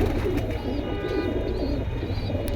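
Male pigeons in a collection coo softly and repeatedly at close range, giving low, rolling calls against a steady background hum, with no talking.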